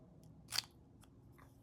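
Scissors snip through paper during a craft project, one sharp close cut followed by a few fainter snips in a quiet room, with no talking.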